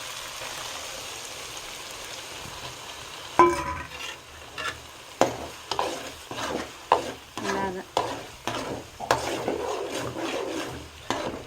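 Tomato paste is stirred into a village-style stuffed brinjal curry in a frying pan: a quiet low sizzle, then a run of sharp, rhythmic spoon scrapes and wet slaps, close-up, with no talking.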